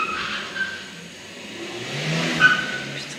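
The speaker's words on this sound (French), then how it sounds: "c'est une voiture" A car going by with engine rising and fading and a faint tire squeal, heard alone over a few seconds at moderate distance.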